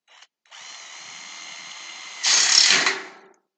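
A power drill drives in the last couple of screws, a steady mid-pitched whir for about two seconds, then a louder, harsher burst as the screw seats before it winds down. No one speaks.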